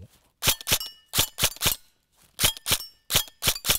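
An airsoft electric gun fitted with a Kestrel V2 electronic trigger fires in short bursts of two to three sharp, loud cracks, each group separated by brief pauses, with no voice.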